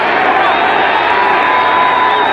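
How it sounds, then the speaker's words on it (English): A partisan crowd at a 1979 Falcons home football game against the Seahawks roars steadily, a dense sustained mix of cheering and booing with a few whistles. "Crowd, a partisan one, of course, exhorting their Falcons. They vacillated between booing and exhorting."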